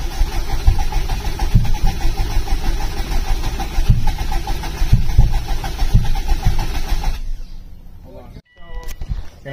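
A Subaru WRX engine, started for the first time in eight months with its mass airflow sensor unplugged, runs with a rough, uneven idle close by. Voices talk over it before it cuts out and then sputters again.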